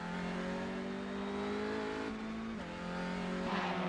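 Mazda MX-5 race cars at speed on Conrod Straight, engines holding a loud, steady high drone with a brief pitch shift as one car passes another, continuous and close throughout.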